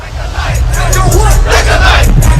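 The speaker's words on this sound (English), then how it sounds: "As the crowd raged" A raging crowd roars and shouts at full volume, a dense, continuous wall of many voices yelling together.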